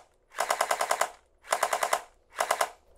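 A gel blaster fitted with a Starfire UV tracer unit fires three rapid full-auto bursts, each of about six to seven shots, with short gaps between them and no talking.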